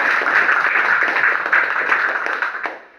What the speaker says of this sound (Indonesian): Sekali lagi tepuk tangan untuk Mbak Ilo.